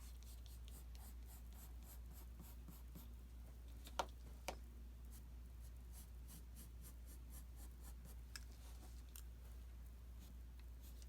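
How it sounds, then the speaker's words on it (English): A pencil roughly sketches a mushroom shape on paper, giving soft, quiet scratchy strokes in short bursts with a couple of sharper taps, close up over a low steady hum, no voices. "I'm just going to roughly sketch one out here really quick"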